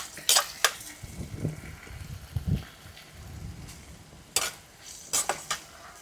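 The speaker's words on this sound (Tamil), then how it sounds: "நல்லா வதங்கிட்டு இப்போ கருவேப்பிலையை போட்டோம்" Curry leaves fry with softened tomatoes in a pan, giving a soft sizzle beneath several sharp clinks and scrapes of a spoon stirring against metal.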